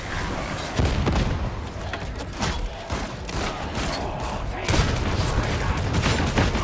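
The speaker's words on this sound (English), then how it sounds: "Throwing grenade!" A grenade goes off amid the dense gunfire of a Warhammer 40k Darktide battle, with rapid overlapping shots and heavy thumping blasts forming a loud, chaotic barrage from start to finish.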